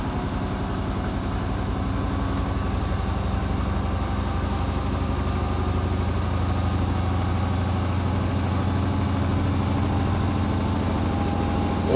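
Unbalanced washing machine on its spin cycle, giving a loud, steady low rumble and whirring drone with constant rattling vibration that runs unbroken for the whole stretch.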